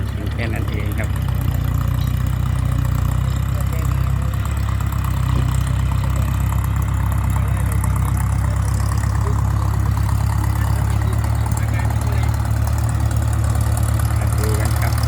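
Old Ford farm tractors idle with a steady, deep droning engine rumble that holds constant and fairly close for the whole stretch, with no clear breaks.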